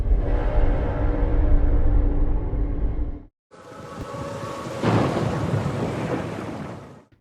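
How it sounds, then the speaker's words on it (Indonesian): Heavy rain pours steadily with deep rolling thunder at night in a horror film scene, loud and close, breaking off briefly before a fresh downpour with thunder resumes. "Malam itu, hujan turun cukup lebat."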